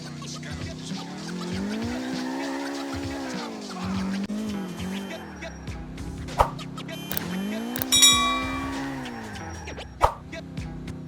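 A car in Grand Theft Auto IV drives with a steady engine drone that rises and falls through gear changes, with tire squeals and a couple of sharp knocks near the end, and no talking.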